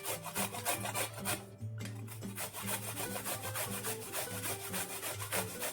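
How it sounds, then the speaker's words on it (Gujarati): Raw mango being grated on a small hand grater, a continuous rapid rasping scrape in quick even strokes, close and loud, with a brief pause partway through. "અહીંયા આપણે કેરીને આ નાની છીણીથી આપણે છીણી લેશું।"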